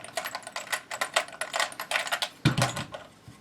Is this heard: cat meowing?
no